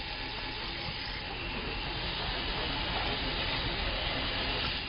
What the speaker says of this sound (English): Fill it partially with lukewarm water.